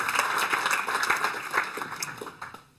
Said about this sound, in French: on vous applaudit aussi